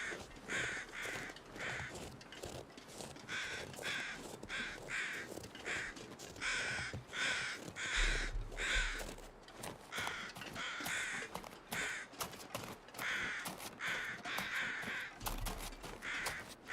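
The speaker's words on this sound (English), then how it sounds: "Good lord, the crows are so loud these days." Several crows caw loudly and repeatedly from nearby in overlapping harsh calls that keep up throughout, with a low rumble of wind or traffic in places.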